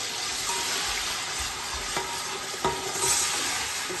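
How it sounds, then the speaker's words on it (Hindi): Masala is stir-fried in a pan for aloo gobhi, a cauliflower and potato dish, with a steady hissing sizzle and a few sharp spoon scrapes and taps, close and even; no talking. "ये देखो, अब आप इसकी अच्छी तरह भुनाई करें सारे मसाले को"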